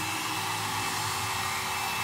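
A Lange Le Volume hair volumizing dryer brush blows continuously, a loud, steady close-up whoosh of airflow with a constant motor whine and no talking.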